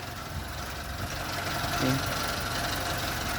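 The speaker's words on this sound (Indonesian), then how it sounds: "Untuk suara mesinnya teman-teman, dia halus, kering, tanpa rembesan oli sama sekali." Steady, smooth idle of a 2005 Suzuki Katana GX motorcycle engine, a continuous even drone close by with no pauses, running alone for a few seconds.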